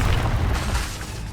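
A fiery Incendio spell bursts in Hogwarts Legacy, a single close, loud booming whoosh that fades over about a second.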